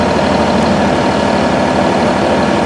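A New Holland 5620 4x4 CRDi tractor diesel engine runs steadily close by, a loud, even rumble with a fine pulsing throb and no pauses.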